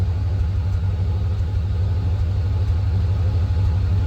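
A 1995 GMC Sierra 2500 truck with a blown head gasket idles close by, a steady low rumbling engine note that holds evenly throughout with no voices.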